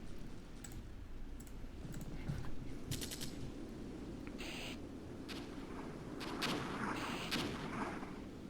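Enemy artillery in the Armored Brigade war game, a series of faint, distant booming impacts and sharp cracks scattered over a low continuous rumble.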